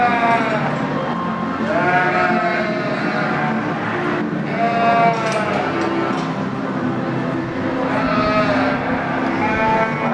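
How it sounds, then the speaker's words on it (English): Sheep bleat repeatedly at a country fair sheep show, loud and close, several wavering calls overlapping one another across a steady background. "I think that we got a little sheep show or something here."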